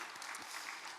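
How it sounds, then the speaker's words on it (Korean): Church congregation applauding in encouragement during a Sunday service, a brief, fairly faint burst of many hands clapping that stays even for about a second. "이 시간 같이 격려의 박수로 한번 격려하겠습니다."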